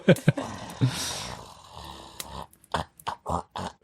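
A voice imitates loud, rasping snoring with grunting, snorting breaths, followed by a few short choppy bursts.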